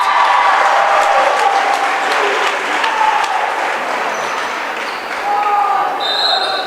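A high school volleyball crowd in a gym at an Antigo at Mosinee WIAA match cheering and clapping loudly and continuously, with squeaky shoes and an announcer's voice over the noise.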